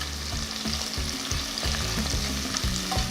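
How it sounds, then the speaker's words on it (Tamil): Thinly sliced large onions frying with whole spices in a pot for a mushroom pulao, a steady close sizzle broken by a few stirring scrapes and spoon knocks, with no talk. "அடுத்து இதில் 2 பெரிய சைஸ் வெங்காயத்தை நல்ல மெலிசாக ஸ்லைஸ் பண்ணி ஆட் பண்ணுறேன்."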